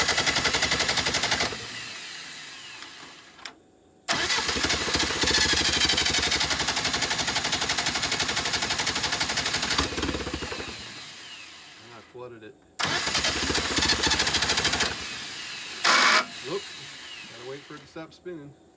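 A Willys CJ2A jeep engine cranks and fires in several bursts, loud and close, with rough sputtering runs that cut out between attempts and a voice speaking in the gaps.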